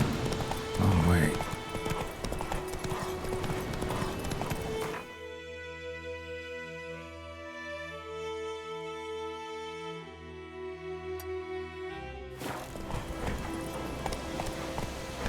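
A horse gallops in The Witcher 3, rhythmic clip-clop hoofbeats in a game scene, first under busy ambient sound and then with a calmer musical stretch in the middle.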